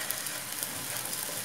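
Stroganoff ingredients with a pinch of oregano fry together in a pan, giving a steady, soft hiss of sizzling with faint crackles and no voices.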